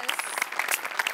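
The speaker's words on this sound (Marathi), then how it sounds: "सचिन सरांसाठी एकदा जोरदार टाळ्या" Studio audience on the Marathi comedy show Maharashtrachi HasyaJatra clapping steadily, a dense patter of many hands throughout, fairly close and moderately loud.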